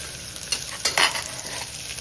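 Onions stirred and sautéed in oil in a pan, a soft continuous sizzle with a few brief scraping stirs, close and moderately loud, no voices.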